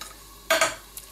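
Noodles being stir-fried in a heated pan: a short burst of sizzling and scraping as they are scooped and flipped, close and brief, with a faint clink afterward.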